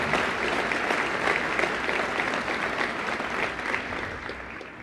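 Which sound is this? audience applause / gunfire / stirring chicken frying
audience applause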